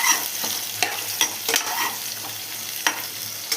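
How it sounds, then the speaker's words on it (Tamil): Chopped onions fry with bay leaf, cinnamon, cardamom and cloves in a pan, a constant close sizzle with periodic scraping stirs of a spatula against the metal. "அதுக்கப்புறமா நல்லா வதக்கி விடணும்."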